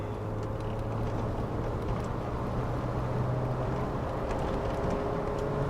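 A Volkswagen Golf 1 GTS engine heard from inside the car as it accelerates to overtake, giving a steady, continuous drone with road and wind noise, fairly loud and close, with no speech.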